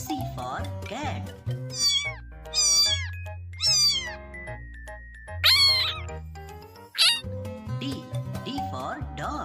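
Several cat meows ring out over a sung children's melody, the cries rising and falling in pitch, each one clear and close.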